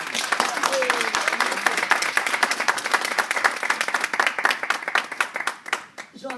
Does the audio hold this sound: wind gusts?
no